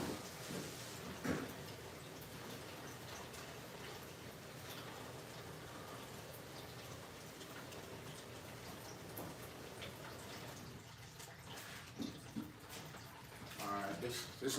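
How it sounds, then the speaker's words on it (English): Water is poured into a bucket during a pixie frog enclosure rebuild, giving a steady, soft splashing stream that is faint and continuous throughout, with a few small knocks and clatters near the end. "let me put some water in this bucket"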